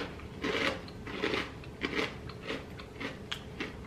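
Crunchy jalapeno Parmesan crisp being bitten and chewed, with a string of sharp, close crunches roughly every half second and no talking.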